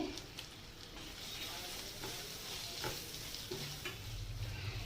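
Mango being sautéed with turmeric and Kashmiri chili powder gives a steady low sizzle with scattered scraping stir strokes, fairly quiet and close, with no talking.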